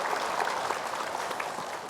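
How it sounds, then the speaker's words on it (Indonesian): A studio audience at an Islamic religious talk show applauding, a steady, close wash of many clapping hands that holds evenly for the full two seconds with no talk over it. "Tepuk tangan dong untuk Ustadz Munawir Ngacir."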